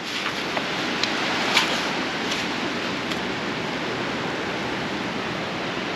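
Surf washing in at a beach hot spring, a dense steady broadband rush of water with a few faint splashy crests, close and constant with no voices.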